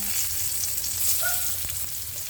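Garlic frying in hot oil in a pan, a steady close sizzle with a faint clink or two partway through.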